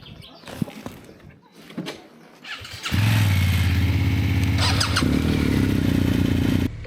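Motorcycle engine starts partway through and settles into a loud, steady idle close by, after a stretch of quieter clatter and handling noises; no talking.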